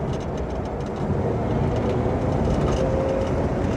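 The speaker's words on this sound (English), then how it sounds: "I'm sorry if the road noise is too much." Steady, dense road rumble fills the cabin of a chopped 1958 Plymouth on the move, a constant loud roar with no pauses and no talking.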